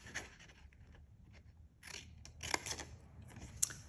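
Scissors snip away the score lines of a paper kit, a few quiet crisp cuts and paper rustles close by in an otherwise silent room.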